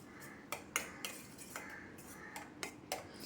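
A spoon scrapes and clinks in a pan as tomato rice masala is stirred. Irregular, close metallic taps and scrapes come several times in quick succession, with no talking.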